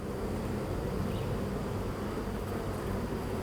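Dense, steady buzzing of many honeybees, loud and close, continuing without pause, heard during a hive inspection with bees piled on one another.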